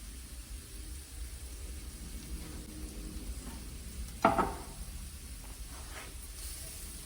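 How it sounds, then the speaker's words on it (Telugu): Soya granules, soaked and ground, frying in a little oil over a medium flame: a steady soft sizzle with a brief louder stir or scrape near the middle, no voices. "ఫ్లేమ్ కాస్త మీడియంగా పెట్టుకుని వేయిస్తున్నానండి కొంచెం"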